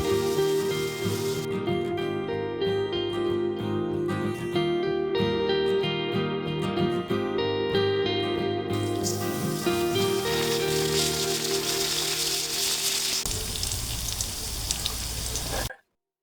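Ginger garlic paste hits lightly browned onions in hot oil for a beef bhuna khichuri, giving a steady close sizzle under background music that cuts off at the end.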